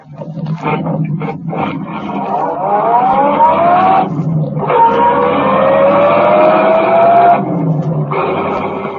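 A car speeding through a street chase, its engine roaring and whining steadily with rising pitch sweeps as it accelerates, loud and close with no talking over it.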